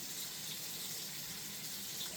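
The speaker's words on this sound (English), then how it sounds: "if you have a strainer, you can put it through the strainer and, just rinse it through a few times." Chickpeas are rinsed in a strainer under a running kitchen tap, the water streaming in a steady, close hiss.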